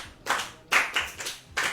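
Children's programme audience clapping in three short bursts of applause separated by brief pauses, fairly close and clear with no talking.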